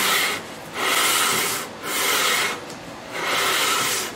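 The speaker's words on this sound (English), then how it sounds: "I've got a piece of 220 sandpaper here, and I'm just going to work it back and forth like this" Sanding mandolin wood by hand with 220 grit sandpaper, four slow back-and-forth strokes in a steady rhythm, close and clear with short pauses between passes.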